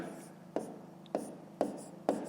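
Chalk or pen taps out numbers on a board during a fifth-grade maths lesson, four short sharp strokes at even intervals over a faint room hum.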